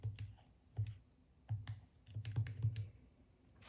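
Calculator keys pressed during a math calculation, a handful of soft plastic clicks in uneven quick groups, close and faint, with no talk.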